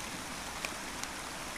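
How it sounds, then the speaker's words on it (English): A mountain stream steadily rushes into the intake of a small water-powered generator, a faint, even hiss of flowing water with a couple of tiny splashes. "That's the water coming down the side of the mountain there, down the stream."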